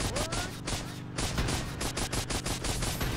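Guns and missiles fire from a helicopter in LEGO Marvel Superheroes, a dense, loud run of rapid shots and blasts layered over game music and effects throughout.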